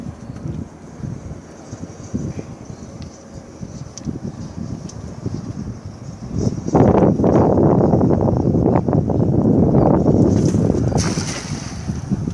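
A breeze blows across an outdoor pond, a steady airy rumble that swells into louder, gustier buffeting about halfway through, with no one speaking.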